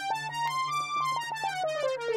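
Brass Ensemble 2 patch on a virtual Casio CZ-101 synth, playing a short run of bright, buzzy brass-like notes with a held tone and a descending line, clear and alone.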